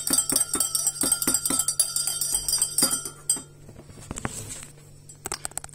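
A spoon or utensil stirs coffee in a cup, producing a quick run of bright clinks against the side, close and fairly loud, then a quieter tail with a few scattered taps.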